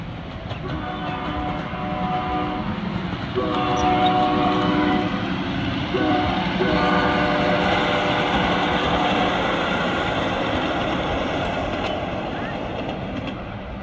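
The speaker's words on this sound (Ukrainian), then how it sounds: "Товарняки один за одним шпарять." Freight trains rumble past one after another in Sacramento, a steady loud rolling roar with clattering wagons and sustained horn tones rising over it, close by and continuous throughout.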